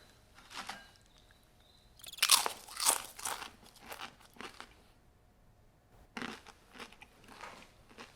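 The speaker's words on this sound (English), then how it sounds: "Got me a zesty bowl of cricket chips right here." Loud crunching bites into a bowl of zesty cricket chips, several sharp crisp crunches in bursts with quiet pauses between, close up with no talking.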